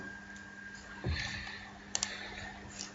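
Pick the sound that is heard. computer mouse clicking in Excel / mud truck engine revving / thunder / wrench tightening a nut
computer mouse clicking in Excel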